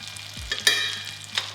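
A steak sizzles steadily in a hot pan on the stove, a continuous crackling hiss with a few sharper spits and a brief scrape as it is turned, heard up close.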